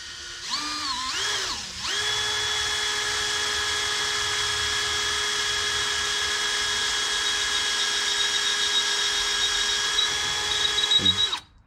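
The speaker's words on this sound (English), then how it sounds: "I'm going to just use this drill and I'm going to start drilling through." A steady, high-pitched power drill whines continuously for about ten seconds while drilling through an acrylic Segway windshield after a brief wavering start, then stops abruptly.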